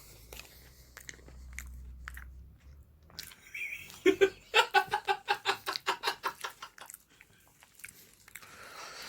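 A dog chews durian with a quick run of about a dozen rhythmic, moist crunching bites that stand out from a quiet room, preceded by faint shuffling.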